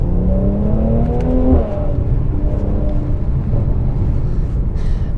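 A facelift Mercedes-AMG C43 4MATIC pulls away and accelerates on tight, twisty roads, the engine note rising steadily through the revs, then a steady loud engine rumble after the upshift, heard close from inside the car.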